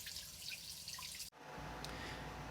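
Water from a water heater being drained rushes out in a steady stream, briefly cutting off partway through before flowing again.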